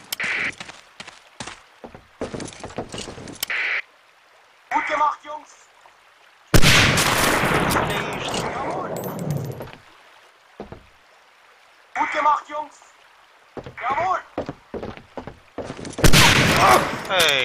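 Bursts of rapid gunfire crackle in short volleys in the video game Medal of Honor: Allied Assault Spearhead, separated by brief pauses, with a longer sustained barrage in the middle and another near the end.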